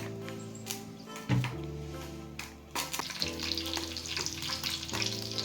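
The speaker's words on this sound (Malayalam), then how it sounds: "അടുപ്പ് ചൂടായി നമുക്ക് ഒന്ന് എണ്ണ ഒഴിക്കാം പാത്രത്തിനകത്തോട്ട്." Oil heats and sizzles in a pan on a stove, frying steadily and close by, with occasional sharper spits and crackles over the continuous hiss.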